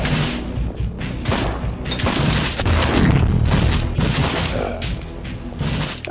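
Rapid overlapping gunfire at a video-game firing range forms a dense, loud barrage of booms and thuds that rolls on almost without pause.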